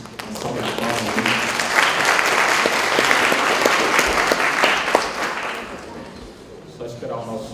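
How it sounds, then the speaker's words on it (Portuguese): Sustained applause from an audience of public university staff at a panel on outsourcing, dense and fairly loud, with voices and crowd noise mixed in before it thins out near the end. "Uma salva de palmas aí."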